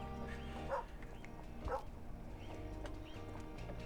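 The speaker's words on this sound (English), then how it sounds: "The dog barks as the party leave, seemingly saying goodbye." A dog barks twice in The Oregon Trail 2022 game, two short clear yaps about a second apart over a low steady ambient hum.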